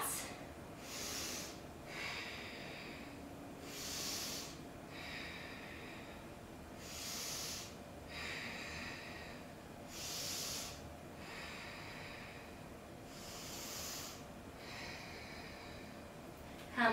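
Steady yoga breathing during a hip-opening vinyasa pose, with about five slow, audible nasal inhale-exhale cycles, soft and close, each a breathy hiss spaced roughly three seconds apart.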